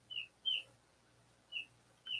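Cornish cross chicks in a brooder box give faint, high, clear peeps, four short chirps spaced irregularly over a quiet background with a low steady hum.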